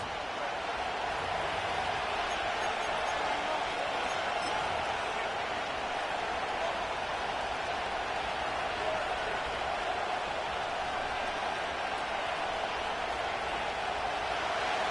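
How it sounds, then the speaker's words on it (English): A stadium crowd in an EA Sports football game, a steady, dense roar of many voices holding at an even level throughout, with no breaks or distinct cheers standing out. "The crowd is definitely ready."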